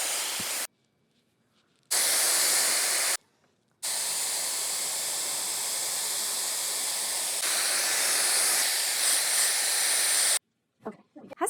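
A Dyson Airwrap hair styler blows a steady, loud rush of air in long bursts, cutting out and restarting between sections of hair, with short quiet gaps.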